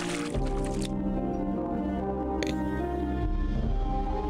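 Drinking water from a barrel in the Gothic mod Chronicles of Myrtana: Archolos, heard as wet squishy gulping and liquid sloshing with a couple of splashy bursts over a droning game music bed.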